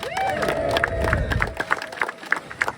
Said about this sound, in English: Give them a cheer, they finally got here.